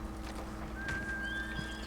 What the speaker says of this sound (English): Yeah, come back, horsey.